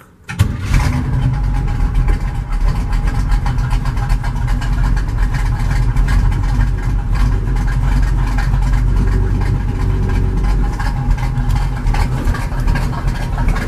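A full-size truck with a strong engine of around 400 horsepower cranks and catches, then settles into a loud, steady, rumbling idle that fills the rest of the clip.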